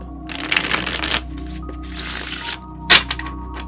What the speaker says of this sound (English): I love the way that these sound when they're shuffled.